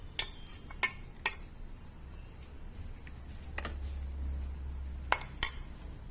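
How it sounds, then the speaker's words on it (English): A spoon clinks against a bowl as mint chutney, freshly ground to a smooth paste in a mixer, is spooned into a serving bowl; a few sharp metallic taps come close by, with quiet gaps between them. "I am putting this chutney in serving bowl."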